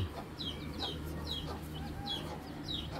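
Hens cluck in short repeated bursts, fairly close, with a steady low hum in the background and no talk.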